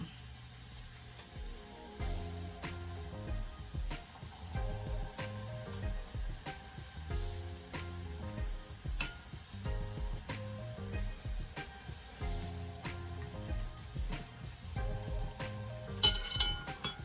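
Jamaican festival dumplings fry in hot oil with a steady sizzle and scattered clinks and stirring sounds. Light and close, with no voices.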